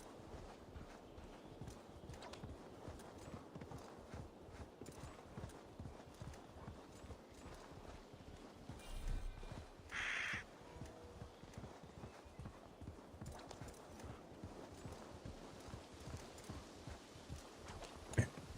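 Rhythmic hoofbeat clip-clop of a wolf mount galloping in Assassin's Creed Valhalla, steady and moderately loud throughout, sounding like a horse running, with a brief burst of another game sound partway through.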